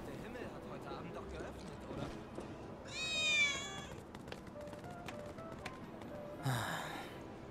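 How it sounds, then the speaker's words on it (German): Cats meowing in the Final Fantasy VII Remake video game: one drawn-out, wavering meow near the middle and a shorter cry near the end, over low game ambience. "Also wir haben zumindest drei Katzen angemaunzt."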